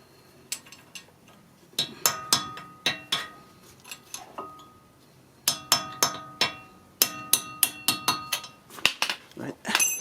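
Sharp metallic hammer blows strike a chisel against a wheel stud on a 2008 Honda Civic, landing in uneven bursts of ringing clanks with short pauses between groups, close and fairly loud.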